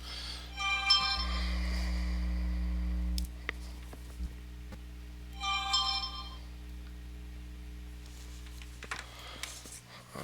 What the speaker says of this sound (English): turn the phone off so it stops beeping at me